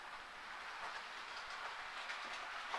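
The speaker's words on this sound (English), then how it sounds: "I'm going to get a train going." Model railway train running on a home layout, a faint, steady rolling rattle with soft clicking from the small wheels on track, no speech.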